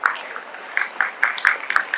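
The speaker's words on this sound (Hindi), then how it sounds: "वेरी गुड, ताली बजाइए आपके लिए जोरदार।" A school audience claps in a loose, uneven burst of hand claps, moderately loud and close, with scattered individual claps standing out.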